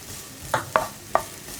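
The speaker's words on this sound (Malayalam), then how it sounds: "ഇതും കൂടി ചേർത്തിട്ട് നന്നായിട്ടൊന്ന് ഇളക്കി മിക്സ് ചെയ്യുക" A spoon stirs grated coconut into a cauliflower and carrot thoran in a pan, giving three short, close scraping clicks spaced about a quarter-second apart against a quiet background.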